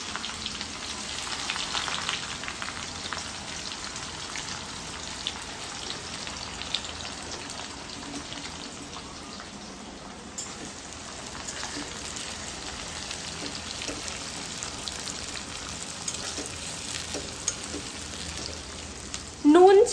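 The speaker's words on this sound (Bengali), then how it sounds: "যখন বেরেস্তা কেটেই ফেলেছি তো ভেজেই নেবো" Sliced onions sizzle steadily in hot oil as they fry into crisp beresta for mutton biryani. The dense, even crackle runs the whole time at moderate closeness, with a faint voice now and then.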